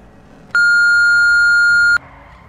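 A single clean voicemail beep in a GTA 5 skit, one steady electronic tone held for about a second and a half, loud and alone against a quiet background.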